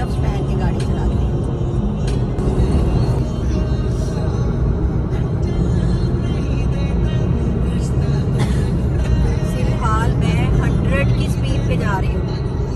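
A car driven through traffic on a road, heard from inside the vehicle: a steady, loud engine and road rumble that goes on throughout, with other vehicles passing. Someone talks over the noise.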